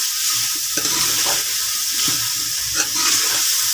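Chopped potatoes and tomatoes are stirred through a hot pan, a close, steady sizzle with wet scraping and tossing throughout.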